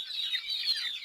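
Early bird chickens, a second batch of young birds, clucking and peeping softly together in a brief, faint burst with no voices.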